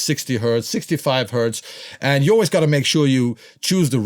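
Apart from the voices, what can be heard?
No everyday noises stand out.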